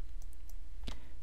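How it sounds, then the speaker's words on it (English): A single sharp computer mouse click, made while the Alt key is held during photo editing, close and clear over a faint steady hum. "Hold down Alt or Option on the keyboard, click."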